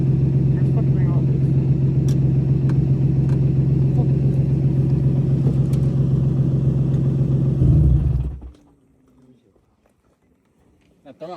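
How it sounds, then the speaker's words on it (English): A car engine with a noisy clutch throwout bearing, a steady loud idle rumble with a whirring overtone running for about eight seconds before cutting off into near silence, with people talking over it. "That throwout's real noisy."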